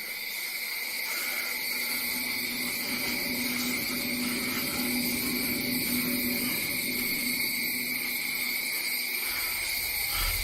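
Steady, loud high-pitched cricket chirring from a video game fills the scene continuously, with a faint low drone underneath and no voices.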